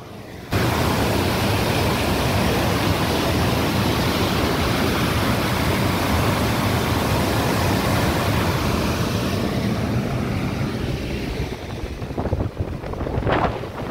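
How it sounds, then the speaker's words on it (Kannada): Overflow water from a dam rushing downstream toward the sea, a loud, steady broadband roar of flowing water that fills the whole stretch without pause, easing slightly near the end with a few brief bumps. "ಓವರ್ಫ್ಲೋ ಆಗಿದ್ದ ನೀರು ಈ ಥರ ಹರಿದು ಮುಂದಕ್ಕೆ ಸಮುದ್ರ ಸೇರುತ್ತೆ."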